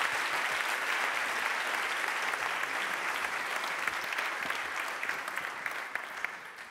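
An audience at a December 2023 circular-economy challenge event applauds steadily, a dense wash of clapping that holds for several seconds and slowly thins, with no voices over it.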